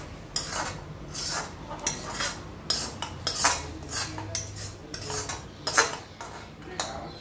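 Potato curry scraped out of a wok into a pressure cooker pot with a metal spoon, repeated close clanks and scrapes of metal on metal in irregular bursts.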